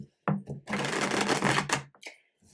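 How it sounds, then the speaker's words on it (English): Tarot cards are shuffled by hand in a quick, close riffling burst of papery flutter lasting about a second and a half, followed by a few soft card taps. "And yes, I am shuffling first for this one."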